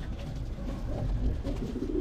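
A black pigeon coos softly with low, rolling calls over a muffled background hum, close and fairly quiet.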